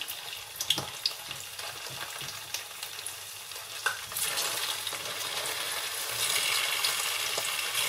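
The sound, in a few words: taro being lightly fried in hot olive oil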